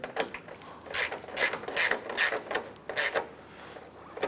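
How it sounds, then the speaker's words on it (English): A hand ratchet tightens the upper headlamp screw on a Chevrolet Impala, with several close bursts of quick metallic clicking separated by short pauses, and no voices. "Install the upper screw and get that started."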